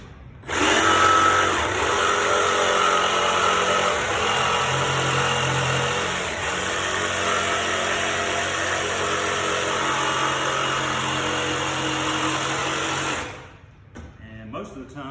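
A jigsaw cutting through a large piece of wood, a loud, steady high buzzing whine that runs continuously for most of the time and then winds down and stops.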